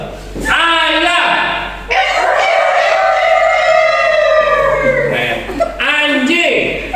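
A group of voices at a storytelling workshop loudly imitates a chicken, with short squawks and then a long, wavering crowing call sung together.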